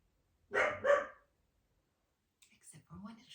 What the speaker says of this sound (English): she's barking when she's not supposed to